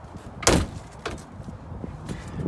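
A door on a pontoon boat with a magnetic catch shuts with one sharp knock, followed by a couple of softer clicks and taps in an open outdoor setting.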